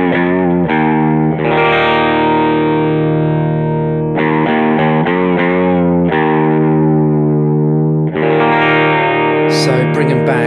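An electric guitar runs through an NRG Purrer dual gain channel overdrive pedal with the low end boosted, giving thick, fuzzy sustained chords that ring out in a few long strums, loud and close with no talking.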